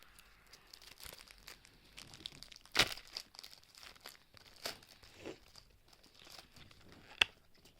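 Trading card pack wrappers being torn open by hand: sparse, faint crinkling and crackling of foil plastic, with a few sharper rips standing out at close range.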